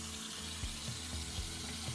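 Water flowing from a newly installed bathroom faucet after the supply valves are opened, a soft steady rush with faint clunks, heard alone and fairly quiet.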